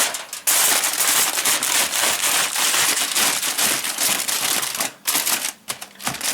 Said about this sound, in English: And then we're gonna use the heavy duty foil.